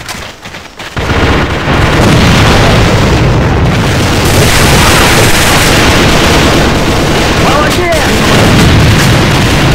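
A grenade explosion in a tank battle game, a loud close boom followed by sustained rumbling combat noise and scattered shots, with a voice calling out during the fighting.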